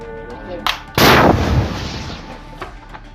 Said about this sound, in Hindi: फिर उसके ऊपर एंटी टैंक मिसाइल से हमला कर देते हैं।